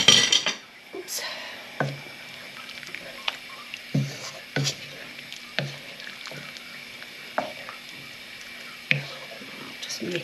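Metal spoon stirring stock with hot water from a kettle in a pan for meat and potato pie, clinking against the pan in a string of sharp, regular taps over a quiet kitchen background.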